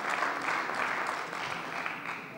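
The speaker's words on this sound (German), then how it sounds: "Ja, das ist ein Applaus wert." Members of the Berlin state parliament applaud during a plenary session, producing a steady, moderately loud spell of clapping from the chamber that slowly tapers off.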